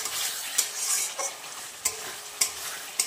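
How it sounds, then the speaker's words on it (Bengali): Ground paste of garlic, onion, ginger, cumin and coriander powder being stir-fried in a pan, a steady close sizzle with repeated scraping strokes of the spatula at irregular intervals. "তা এখন এটাকে আমি ভালো মতন কষিয়ে নেব।"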